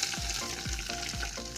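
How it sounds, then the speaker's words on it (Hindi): Browned garlic tempering sizzles in hot fat as it is added to mustard greens for sarson ka saag, a dense close fry with a few stirring knocks, no voices. "लहसुन ब्राउन हो चुका है, अब इसे हम डालेंगे"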